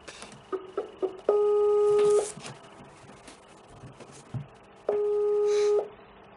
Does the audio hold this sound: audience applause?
no